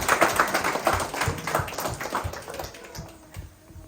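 Audience applause in a gathered hall, a burst of quick overlapping claps that is loud at first, then thins and fades toward the end.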